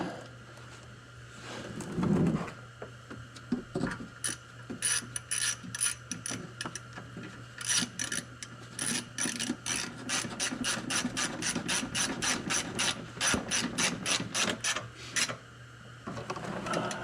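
A hand ratchet tightens the bolts during an oil change on a 2014 Mercedes ML63, giving bursts of rapid clicking that grow into long fast runs, close and crisp against a low steady hum.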